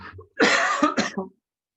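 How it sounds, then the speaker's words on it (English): A single harsh cough, close and loud, breaking into a couple of rough bursts before silence. "just a cough."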